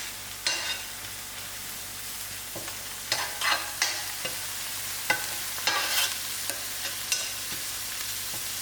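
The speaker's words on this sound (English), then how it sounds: "These are my ground roasted spice. Allow it to fry." Ground roasted spices fry in a pan for a hot, sour Durban fish curry, with a soft steady sizzle under repeated sharp scrapes and taps of stirring at close range.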